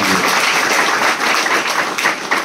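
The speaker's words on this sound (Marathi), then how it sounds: "त्यांच्यासाठी एकदा जोरदार टाळ्या वाजवा" Audience at a village chavadi gathering in Vairag, Barshi applauds, a dense, steady wash of clapping throughout, loud and close, with no talk over it.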